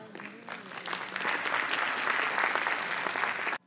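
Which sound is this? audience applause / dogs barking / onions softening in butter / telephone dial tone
audience applause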